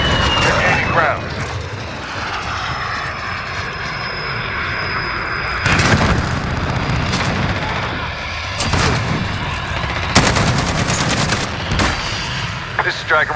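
Rapid gunfire bursts in the Call of Duty Modern Warfare video game, loud sharp volleys cutting repeatedly through a droning aircraft engine and battlefield din, close and intense.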